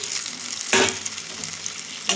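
A cauliflower pakora chilli curry bubbles and sizzles steadily in a pan on the stove, with a brief louder splash or stir midway, close and continuous with no talking.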